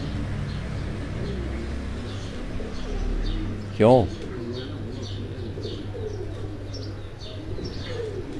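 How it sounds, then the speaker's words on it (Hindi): Pigeons cooing in a rooftop cage, a steady low burble of coos with faint chirps, one sharp rising call standing out near the middle, while someone talks nearby. "ये कबूतरों का केज, ये कुछ थोड़े से कबूतर बाहर निकले हुए हैं"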